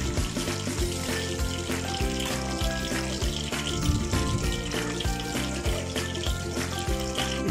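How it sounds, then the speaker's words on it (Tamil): Mustard seeds crackling and popping in hot palm oil, a dense, continuous sizzle with busy irregular pops, close and steady throughout. "இப்போ பாம் ஆயில் நல்லா சூடாகிடுச்சு, ஸோ அதில் கடுகு போட்டாச்சு"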